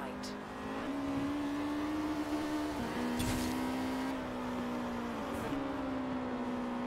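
Forza Horizon 4 car engine holding a steady high drone under load, with two brief dips as the driver shifts, loud and close throughout.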